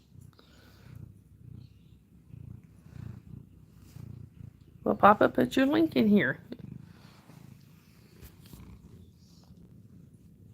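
A kitty cat purring close by for about a second and a half, a rough pulsing rumble rising over a quiet room, with a person speaking around it.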